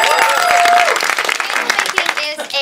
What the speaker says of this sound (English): please, a big round of applause for Experts Challenge